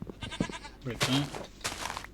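Minecraft goat bleats, a short wavering call and then more cries, mixed with someone talking over the game sounds.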